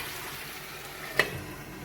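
Mutton liver frying in a covered pan on a gas stove, a soft steady sizzle with one sharp brief pop partway through, no voices.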